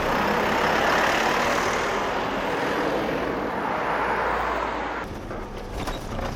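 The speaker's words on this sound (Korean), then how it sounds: "지금 차 굉장히 부드럽게 나갑니다." Steady broadband engine and road rumble from a used manual-transmission car moving smoothly, loud and continuous, easing slightly near the end.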